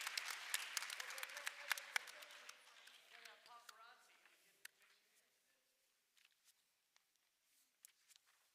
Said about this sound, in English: Another round of applause for our Needham Bulldog team in the State Science Bowl.